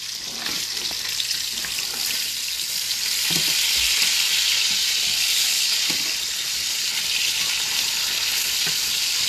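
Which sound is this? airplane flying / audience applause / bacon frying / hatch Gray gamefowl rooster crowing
bacon frying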